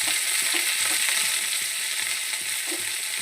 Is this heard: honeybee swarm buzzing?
no